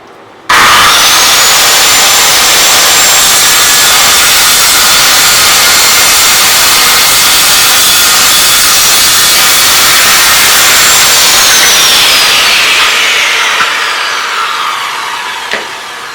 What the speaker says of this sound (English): I use my bevel to transfer the angle on this to my circular saw, and now I'm just going to cut off the legs